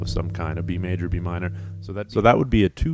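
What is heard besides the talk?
No everyday noise stands out behind the speech.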